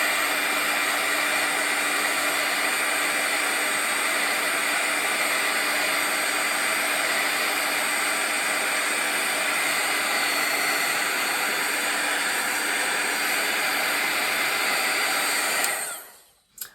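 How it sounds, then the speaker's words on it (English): Heat tool blowing steadily to dry ink on a handmade card, a loud continuous hot-air roar that holds level throughout and cuts off abruptly near the end. "I'm going to give a little bit of a dry with my heat tool."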